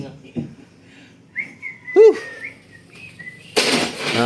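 A man whistles a short rising note outdoors at a building site, one brief clear whistle amid quiet talk and background noise.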